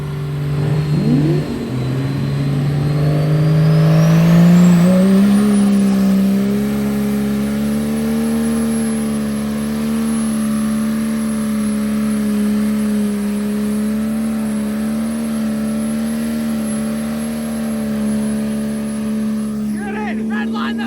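A 4x4 truck with a 1200 HP Cummins diesel doing burnouts gives a loud, sustained engine drone that climbs in pitch, then holds at high revs for about twenty seconds, close and unbroken.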